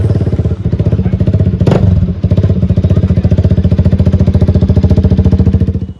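A motorcycle engine runs close and loud, a rapid steady thumping putter with a brief rougher burst partway through, continuing evenly throughout.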